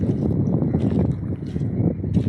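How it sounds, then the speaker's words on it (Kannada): Strong, cool wind gusts steadily against the microphone beside a temple surrounded by water and crossed by a bridge, a loud continuous rumbling buffet with no talk. "ಫುಲ್ಲು ಗಾಳಿ ಹೊಡಿತಾ ಇದೆ."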